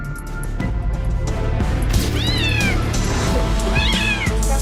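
A kitten stuck in a washing machine cries loudly and desperately, several rising and falling meows close by over a background rumble and clatter.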